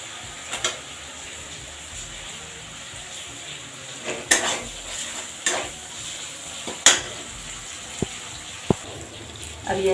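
Potatoes are stirred into fried masala in a pan, with soft scraping and gentle sizzling plus scattered clinks of a utensil against the pan, close and moderately quiet.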